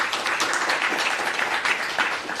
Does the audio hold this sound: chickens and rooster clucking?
no